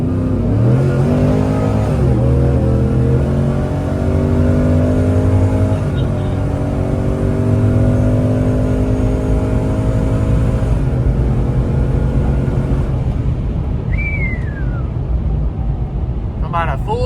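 A full-size sleeper truck with a 700 HP ProCharged 416 stroker engine makes a hard pull, its loud engine note climbing steadily in pitch through several shifts, with slight supercharger belt slip.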